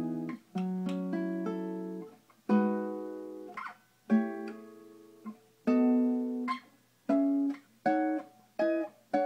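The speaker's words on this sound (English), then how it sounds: "this is going to be a major seventh." A major seventh chord played on guitar, struck and arpeggiated several times in a slow, uneven rhythm, each strum ringing clearly and then fading, with no voice over it.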